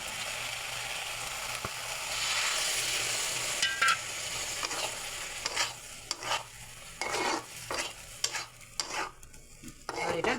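Water poured into a pan of sizzling prawn and loti curry, a broad hiss giving way to crackling frying and bursts of stirring scrapes, close and steady with no talking.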